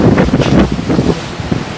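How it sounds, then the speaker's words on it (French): Strong gusts buffet an outdoor microphone at Bonifacio in Corsica, producing a loud, uneven rumbling flutter that swells and drops over a couple of seconds. "Il y a beaucoup de vent, je m'excuse."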